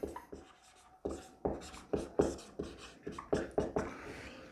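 Pen writing out a Class 12 chemistry solutions question on paper, a series of close, quiet scratchy strokes in irregular bursts with brief pauses, no voice.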